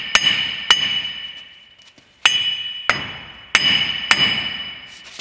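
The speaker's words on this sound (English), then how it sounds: "So now we're gonna go ahead and tap it with the sledgehammer" A sledgehammer strikes the front wheel hub of a 2000 Ford F350 diesel about seven times at uneven intervals. Each hit is a sharp, close metallic clang that rings out and fades before the next blow.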